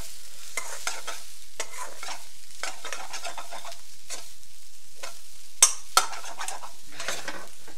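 Vegan vegetable biryani rice is stirred and its lumps broken up in a pan, repeated soft scraping strokes over a faint sizzle, with two sharper metallic clinks near the end, close and without talk.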